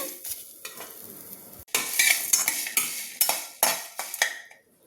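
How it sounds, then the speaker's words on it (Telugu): Whole spices frying together in a pan for a fish curry: a faint sizzle at first, then loud bursts of crackling and scraping stirs against the pan, fading out at the end. "ఇవన్నీ బాగా దోరగా అన్నీ ఒకేసారి వేయించాలి"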